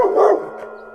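A dog gives a single loud, close bark with a short tonal tail, heard alone without talk.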